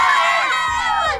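A group of children ends field hockey practice with a brief, loud cheer, high voices shouting together in one short burst at close range.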